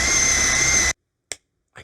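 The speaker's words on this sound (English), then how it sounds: "I could drill more holes in my Crocs." A power drill boring holes in a Croc shoe whines loudly and steadily for about a second, then stops, followed by two brief faint clicks.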